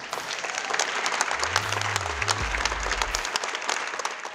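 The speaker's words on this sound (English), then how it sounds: "please welcome, with a big round of applause for Chris Lambert." An audience applauds to welcome a speaker onto the stage, many hands clapping steadily throughout, with a low rumbling tone briefly rising beneath the clapping midway.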